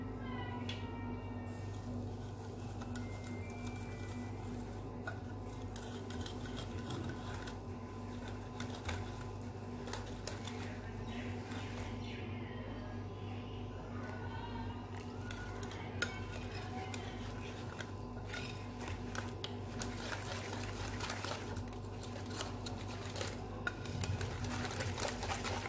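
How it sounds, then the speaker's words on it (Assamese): Cake batter for a coconut cake being stirred and mixed in a bowl, with steady scraping and clinking of a utensil against the bowl running continuously over a low background hum. "এতিয়া আকৌ ভালকৈ মিক্স কৰি লওঁ গোটেইখিনি।"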